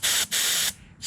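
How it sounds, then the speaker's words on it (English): Two short bursts of cleaner sprayed into the carburetor of a Stihl MS 290 chainsaw, each a loud steady hiss, the first brief and the second longer, with a short gap between them and a third starting as the sound ends. "give it a little spray there"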